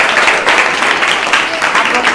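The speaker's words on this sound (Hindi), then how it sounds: "इसका जोरदार तालियों के साथ आनंद।" Students clapping in a classroom after a verb-form quiz, a loud burst of close, sustained applause with voices mixed in.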